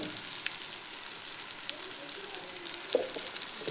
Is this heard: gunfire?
no